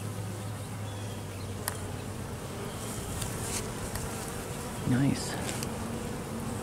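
Honey bees drone in a continuous, close buzz around an opened hive frame heavy with nectar and capped honey on a hot day, with a single brief spoken word partway through.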